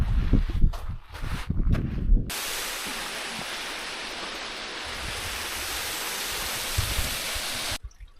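Waterfall on a UK hike: after a few seconds of rustling and handling thumps, a steady loud wash of falling water fills the scene, constant and broadband, ending abruptly.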